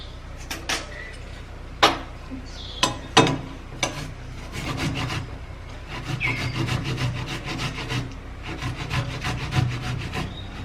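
Tomato rubbed against a metal grater, rough scraping strokes in uneven bursts, starting with a few sharp knocks and then settling into continuous close grating, no talking.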